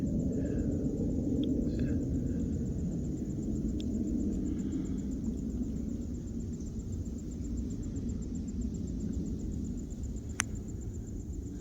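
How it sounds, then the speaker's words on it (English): A fighter jet passes high overhead near a forest campsite at Jack Creek Recreation Area, a steady distant low roar that holds evenly throughout without talk. "that noise you hear in the background is a fighter jet"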